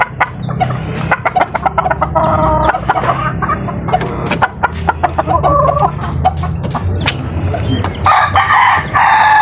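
Young chickens raised apart since they were chicks, heard clucking repeatedly and loudly up close, with a rooster's crow and other farmyard bird calls mixed in throughout.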